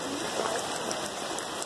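Heavy rain pouring down in the city of Cali, Colombia, a steady dense hiss of drops on surfaces, continuous and even with no voices.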